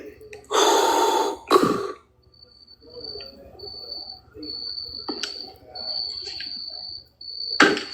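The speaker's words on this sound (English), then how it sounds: "Are those the crickets" Crickets chirp in steady, repeated high-pitched pulses, picked up through an unmuted microphone. Loud breathy bursts and gasps break in near the mic, and there is faint background noise.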